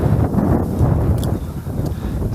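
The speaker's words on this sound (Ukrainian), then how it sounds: "Сильний вітер, правда, заважає рибалити" Strong wind roars and buffets the microphone in a constant low rumble beside a pond in winter, loud and unbroken throughout.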